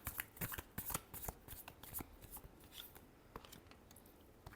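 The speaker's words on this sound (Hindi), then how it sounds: "Last shuffle." Tarot cards shuffled by hand, a rapid riffling and flicking of stiff cards, close and fairly quiet, continuing steadily with no talk.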